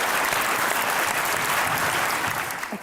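Studio audience on a comedy talk show clapping for a poem, a loud, dense burst of applause that holds steady before tapering off at the end.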